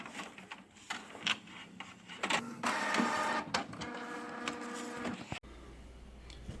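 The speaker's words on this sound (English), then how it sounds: "after accidentally printing out that on the wrong side of the page, printed out on the correct side" A printer feeds and prints a sticker label sheet nearby, a few seconds of whirring, clicking mechanical motion with a steady tone at the end, quiet overall and without voices.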